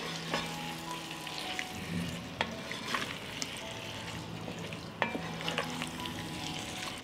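Chopped sausage and frankfurters stirred into a frying pan with Hungarian red paprika, a steady sizzle and crackle of frying broken by several scraping spoon strokes against the pan, no voices.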